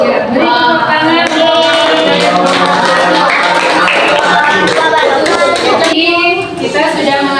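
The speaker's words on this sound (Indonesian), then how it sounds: "Beri tepuk tangan." Schoolchildren in a classroom clap together after a group presentation, a loud, dense burst of applause lasting several seconds, mixed with children's voices and chatter.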